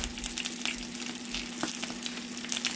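Dumplings frying in a small amount of olive oil in a pan, giving a steady, moderately quiet sizzle and crackle close by with a faint constant hum underneath.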